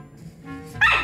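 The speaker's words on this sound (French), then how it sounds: "elle aboie encore, elle aboie encore" A dog gives a short, close bark with a whiny, yipping edge that rises sharply at the end.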